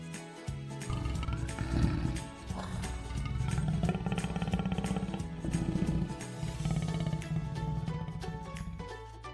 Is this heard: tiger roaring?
yes